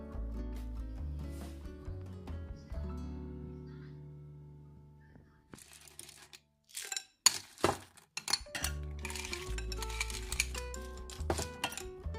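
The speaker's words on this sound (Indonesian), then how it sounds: "Kita tinggal tambah es batu dan sirup." Ice cubes clink and clatter into a glass of iced coconut drink with syrup, bright repeated knocks and rattles over a steady background hum.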